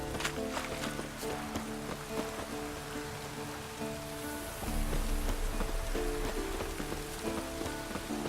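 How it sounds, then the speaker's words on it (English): Steady rain pours down in the Witcher 3 game world, a dense, continuous patter that grows heavier partway through and carries on without a break. "Looks like rain."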